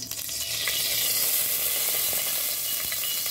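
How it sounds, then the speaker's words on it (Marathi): About a spoonful of hot oil sizzling and crackling in a wok on a gas stove, a bright, constant hiss heard up close without any voices. "तेल चांगलं कडकडून घेऊया।"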